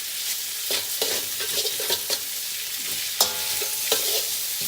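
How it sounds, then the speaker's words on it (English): Chicken chow mein with ginger and garlic stir-frying over very high heat: a steady loud sizzle with repeated scraping and tossing of the spatula, and sharper clanks now and then. "We want to fry everything super quick."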